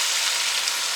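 Beef stock hitting a hot pan for beef stew, a steady bright hiss of sizzling with no voices, even and continuous.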